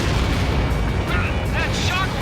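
An incoming missile strikes in a combat flight video game, a dense, roaring blast of broadband rumble that fills the whole moment loudly with no pause, and a voice talks faintly over it.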